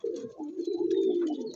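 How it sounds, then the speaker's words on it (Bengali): An old-generation male pigeon coos in one steady, close, continuous rumbling call with no talk over it. "এই একটা নর পায়রা নিয়ে আসছে দেখুন"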